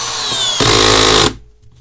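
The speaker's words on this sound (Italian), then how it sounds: "E adesso una bella vite da 15 cm, sempre con batteria originale da 2A." A Parkside Performance 12V cordless screwdriver drives a 15 cm screw with a loud, close motor whine that rises in pitch and strains briefly before cutting off abruptly.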